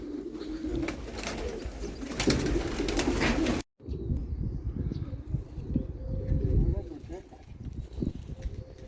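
Pigeons coo at a rural pigeon loft after overnight rain, soft repeated throaty calls under someone talking, with outdoor rustle and a brief cut in the middle.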